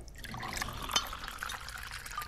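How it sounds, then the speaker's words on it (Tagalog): Water is poured into a glass at a table, a faint, trickling fill with a few small clinks, heard alone at low level. "Lalagyan ko ng tubig."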